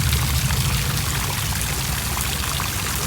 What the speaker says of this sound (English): Three ladies holding up a bowl, sprinkling water into the little fountain here